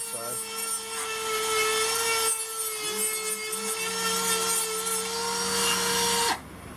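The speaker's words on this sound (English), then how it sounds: "I'm going to take it over to my sander." A power sander whirs with a steady high-pitched motor tone while a wooden flute is pressed against it, the grinding pitch dipping briefly before it cuts off.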